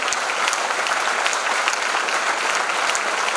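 Steady, dense applause from an audience at a women's empowerment program, loud and continuous throughout without any voices over it.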